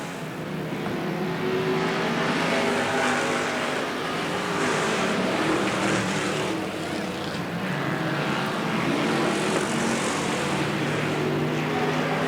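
Sportsman race cars racing at Riverside Speedway during a main event: a continuous, fairly distant roar of engines rising and falling in waves as cars pass, with the rumble of the pack filling the whole stretch.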